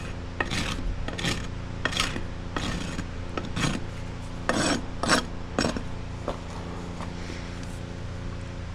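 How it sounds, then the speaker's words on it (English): A farrier's rasp files across a horse's hoof wall in repeated rough strokes, about a dozen close, scraping swipes in a steady back-and-forth rhythm over a low constant background hum. "Now I'm just coming on with my rasp and just going over what I did with my nippers."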